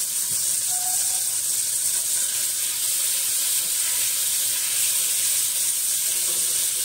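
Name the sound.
crushed garlic sizzling in hot oil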